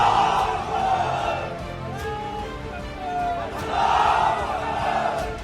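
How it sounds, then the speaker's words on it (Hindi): A street crowd in Ujjain chants Muslim slogans amid a police deployment. Loud massed voices swell and fade in waves, close and continuous, with a few sharp shouts rising above the din. "एक भीड़ मुस्लिम नारे लगा रही है"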